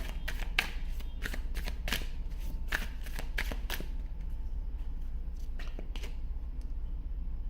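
A tarot card deck being shuffled gives close, rapid bursts of riffling, flicking card snaps in quick succession for about four seconds, then sparser, quieter card handling with a few scattered flicks.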